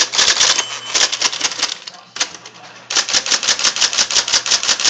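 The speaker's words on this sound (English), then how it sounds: "I'm just gonna type anything so you can see the roller ball in action." An IBM Selectric I electric typewriter typing at close range, with a fast, steady patter of sharp key strikes, one brief pause partway through, then more rhythmic typing.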